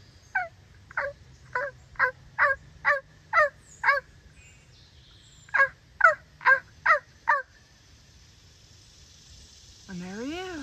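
A man imitates a wild turkey with his voice, giving two runs of sharp, rhythmic yelping calls, eight and then six notes, separated by a short pause, with a brief warbling gobble-like sound at the end.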